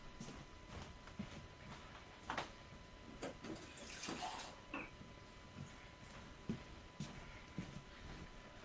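Tap water running into a glass jar at a nearby sink, a quiet irregular splashing and trickle with small clinks and knocks, heard close and faint, with no talking.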